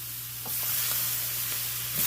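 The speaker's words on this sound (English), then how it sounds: "Let them saute a little bit in this." Onions and mushrooms sautéing in a gravy pan for country fried steak, a steady close sizzle with a low hum beneath and a few faint stirring clicks, without talk.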